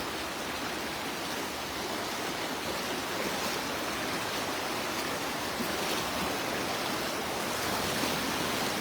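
Strong river current rushing past where fishermen wade, a steady full broadband water roar, close and constant throughout with no voices.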